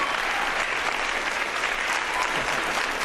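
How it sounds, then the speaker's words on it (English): Sustained applause from a school assembly audience congratulating a student, a dense, steady wash of many hands clapping at once, loud and continuous throughout with no voices standing out. "Round of applause for our most vigilant student, Lenny Brown."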